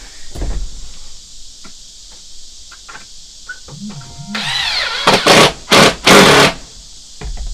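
A power drill whirs in several short bursts, driving a screw into wood without a pilot hole, with rising, straining pitch, after scattered knocks and handling clatter.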